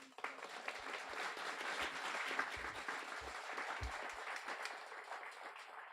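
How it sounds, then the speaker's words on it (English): Audience applause for the instructors at a guide dog school graduation, a steady round of clapping from a crowd that holds for the full stretch at moderate level. "I'd like to thank those instructors and give them a warm round of applause."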